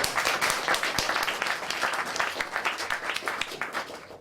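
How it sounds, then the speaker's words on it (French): Audience applause at a freedom-of-expression conference, moderately loud with distinct rhythmic claps in a steady stream. "On peut l'applaudir."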